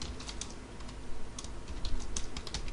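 Quick bursts of keystrokes on a computer keyboard while Java code is typed, light clicking taps in uneven runs over a steady background hiss.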